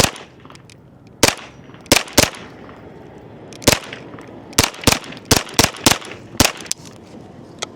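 A folding 9mm pistol caliber carbine fires at 10 yards, about a dozen sharp, loud, cracking shots at irregular spacing, some in quick pairs, with quiet gaps between and no talking.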